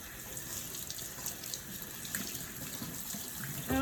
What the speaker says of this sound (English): we'll rinse it over here in the sink